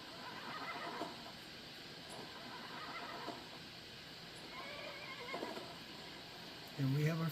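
Tamed horse in the Skyrim video game, a brief neigh near the end rising above a quiet game ambience with faint scattered thuds.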